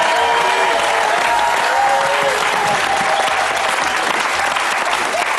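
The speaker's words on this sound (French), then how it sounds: "Et on l'applaudit très fort." Loud, continuous applause from a studio audience at a television show, a dense steady wash of clapping filling the whole stretch, with faint cheering and voices mixed in.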